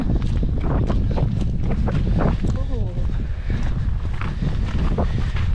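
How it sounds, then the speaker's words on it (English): Wind buffets the microphone on a cold coastline during a walk to Dancing Ledge, a steady, loud gusting rumble that fills the whole stretch, with a brief faint voice-like sound partway through. "Sorry about the wind."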